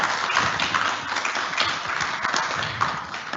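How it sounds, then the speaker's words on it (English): Audience applause after a tech talk, steady broadband clapping from a modest crowd lasting the whole few seconds at moderate distance. "let's give Nolan and Neha a round of applause."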